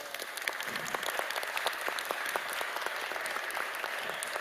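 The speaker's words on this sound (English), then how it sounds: "Let's give both teams a round of applause." Sustained applause from an audience after the first round of a congressional committee debate on trade, steady dense clapping filling the room throughout with no talk over it.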